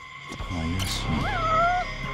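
A cat in a video game, Judgment, meows once in a rising, drawn-out call, with an earlier shorter mew, over a steady electronic background hum and faint voices.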